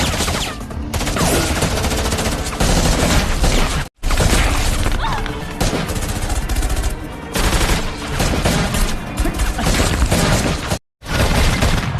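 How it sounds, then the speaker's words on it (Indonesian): A loud, sustained burst of gunfire fills a film shootout scene, with dense rattling shots and crashing impacts continuing almost without pause, broken only by two brief silences. "akhirnya baku tembak pun terjadi"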